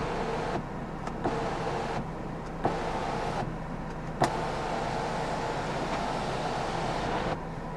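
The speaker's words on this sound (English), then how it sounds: "You can open up the sunroof as a vent as well" Electric sunroof on a 2010 Alfa Romeo 159 2.2 JTS, a steady motor whir inside the cabin broken by a few soft clicks and mechanical knocks, no talking.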